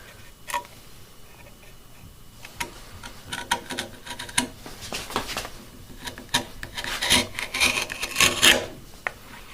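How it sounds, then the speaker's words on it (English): A sharpened chisel edge being stropped on a strop, close repeated rubbing and rasping strokes in an uneven rhythm that grow louder and brighter toward the end. "all this strop does is it polishes out the surface"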